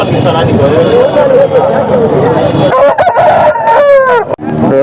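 A rooster crows loudly nearby amid a busy market din of voices and clucking at the Punganur hen market, its long, rising call standing out near the end.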